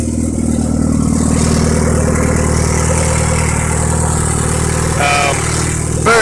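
A turbocharged 3S-GTE engine swapped into a Toyota Celica runs for the first time, holding a loud, steady idle throughout with a brief higher whine near the end.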